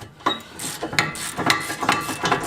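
A ratchet wrench works loose the caliper bracket bolts on a car's disc brake, giving a series of close, uneven metallic clicking bursts over about two and a half seconds, with no talk.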